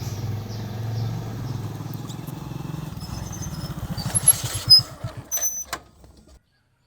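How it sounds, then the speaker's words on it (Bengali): A motorcycle engine idles with a steady low drone, then sputters and winds down as the bike halts in the middle of a road, fading out into silence near the end. "মাঝ রাস্তায় বাইক থামাতে বললে কেন?"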